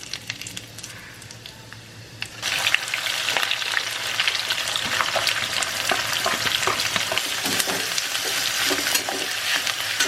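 Chicken kosha frying in a pan with ginger paste, turmeric, chili powder and cumin, a quiet start giving way to steady, loud sizzling and crackling with scraping stirs, no voices.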